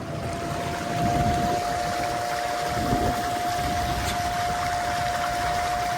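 A homemade skiff's outboard motor runs at full throttle, a steady loud drone with a constant whining tone and rushing water, continuous and close throughout.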